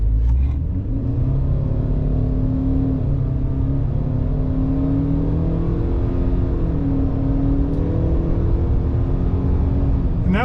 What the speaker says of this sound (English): now we'll see how this thing accelerates in 3,